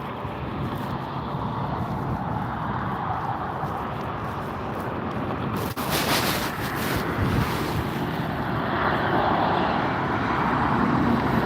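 An Avianca Airbus A320neo airliner at LAX gives a steady, broad jet roar mixed with wind buffeting the microphone, holding level with a slight swell in the second half and no talking.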